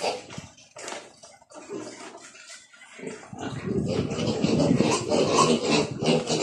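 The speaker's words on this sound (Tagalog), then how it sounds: "papaliguan po muna natin ang ating inahin. Haluan natin ng sabon mga ka-farmers para hindi po dumami yung mga germs." Water being splashed and poured over a sow during a soapy wash on a backyard pig farm, quiet scattered sounds at first, then a louder sustained sloshing and spraying that builds and continues to the end.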